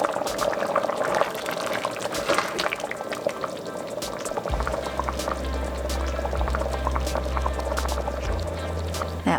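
Pot of turkey chili simmering on the stove, a close, continuous bubbling and popping with a low steady rumble underneath, no talk.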